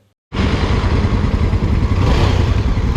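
A Yezdi Scrambler motorcycle with a sensor fault idles close by: a steady, loud, throbbing engine rumble starts abruptly after a moment of silence and runs on evenly, with no voices.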